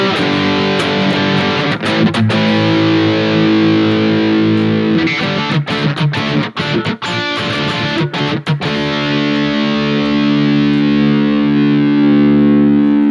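Electric guitar run through a Fractal FM9 or Axe-FX III amp model with no boost in front, loud distorted sustained chords with a burst of quick choppy strums in the middle, ringing out alone.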